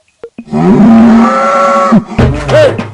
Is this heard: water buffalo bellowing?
yes